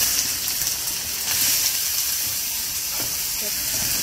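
Onion dropped into a little hot oil for a green-masala brinjal curry gives a steady, soft hiss and sizzle throughout, fairly close, with a few faint kitchen clicks and no clear talk.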